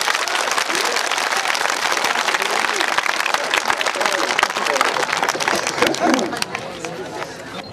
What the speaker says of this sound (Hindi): ताली बजाएंगे सब ताकि जम जाए